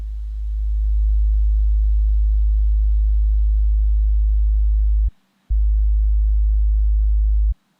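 A 50 Hz sub-bass sine tone drones steadily and loud, fading in at the start, cutting out briefly once and then stopping abruptly near the end.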